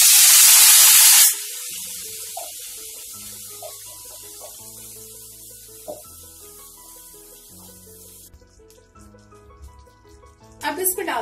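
Tomato puree poured into hot oil with crackled cumin seeds, a loud burst of sizzle and spray at the start that quickly settles into a quieter simmer, with a spoon clink near the end.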